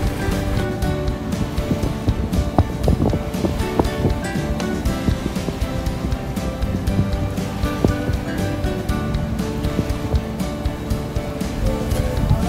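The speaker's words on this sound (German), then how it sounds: "Anna kann sich entspannt zurücklehnen, während wir aufs Meer motoren" A sailboat motors out to sea near Preveza, Greece, with a steady loud engine rumble mixed with rushing water and wind noise throughout.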